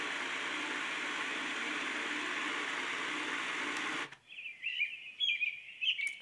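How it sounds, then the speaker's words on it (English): Fan speed noise from an AVANTEK white noise machine: a steady, fairly loud broadband whir for about four seconds, then cutting off abruptly into bird chirps. "fan speed noises."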